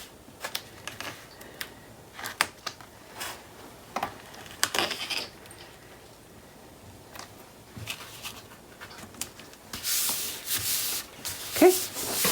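Soft scraping and rubbing strokes close up as a paper liner for a Graphic 45 notebook is scored along its sides, coming in short irregular bursts that end in a louder stretch of scratching.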